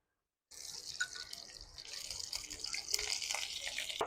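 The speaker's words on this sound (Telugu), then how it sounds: "చూడండి దోరగా వేగుతున్నాయి." Prawns frying in plenty of hot oil on a stove: after a brief silence, a loud continuous sizzle and crackle starts up close, with popping spatters throughout.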